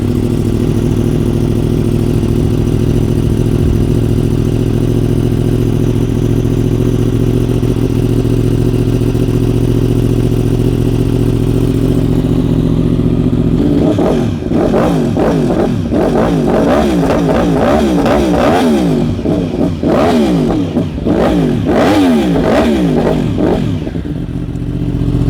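A Yamaha R1M sport bike engine idles steadily up close, then blips and revs repeatedly in quick rising and falling bursts, loud and alone with no talk.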